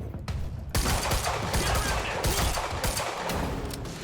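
Rapid gunfire from an infinite-ammo gun in the video game Quantum Break, a dense continuous rattle of shots that runs loud and steady for several seconds with no talk over it.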